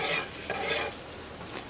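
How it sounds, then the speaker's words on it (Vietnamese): Steady crackling sizzle of chicken frying in hot oil, with occasional stirring clatter, close and fairly quiet, no talking. "Bên đây vẫn còn chiên gà."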